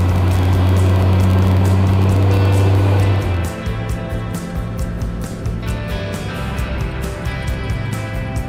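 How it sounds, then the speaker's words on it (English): A Kaiser Darrin sports car engine drones loudly and steadily while driving, its deep rumble heavier at first, then easing slightly but continuing without break. "Yes, the engine does roar a bit more quietly."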